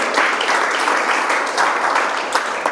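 A church congregation in Albal, Valencia, claps together in steady, dense applause that holds at an even level for a few seconds, sounding close and filling the room without any talk over it.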